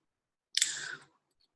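A single short click of a computer mouse in an image editor, crisp and close, heard alone in an otherwise quiet moment.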